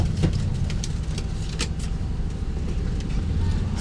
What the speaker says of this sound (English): In fact, we're driving in third gear.